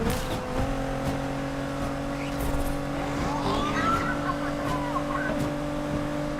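Racing game chase in Need for Speed Unbound: a car engine drones with steady tonal whine as police interceptors pursue, with faint tire squeal and swerving noises underneath, no talk.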